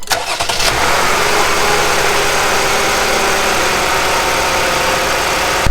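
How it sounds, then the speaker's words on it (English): 2017 Chrysler Pacifica engine starting with a short cranking burst, then settling into a loud, steady idle after an oil change, running continuously without voices. "while the engine is running, listen for any knocks or ticks"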